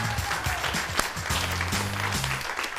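Studio audience applause for a talk show interview with the Bob's Burgers cast, a steady wash of clapping lasting the whole stretch with a few whoops and murmurs underneath.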